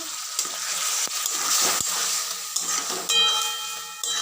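Fried chicken tossed with tomato, ginger and garlic paste in a hot pan, a loud close sizzle with scraping spatula strokes and occasional sharp clinks against the pan, continuous throughout.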